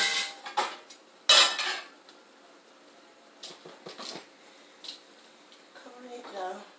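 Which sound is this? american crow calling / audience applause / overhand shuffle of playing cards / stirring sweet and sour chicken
stirring sweet and sour chicken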